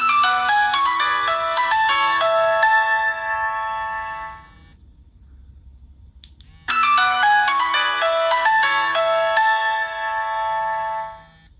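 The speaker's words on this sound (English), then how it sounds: "everyone really wants to still hear the Nokia tune" The Nokia tune ringtone plays loud and clear through the stereo speakers of a Nokia N95, a bright melodic phrase sounding, pausing for about two seconds, then repeating.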